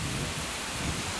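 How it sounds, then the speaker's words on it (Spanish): A dense, steady patter of hail falling in San Francisco, hitting surfaces, a continuous hiss with no voices. "Y granizo."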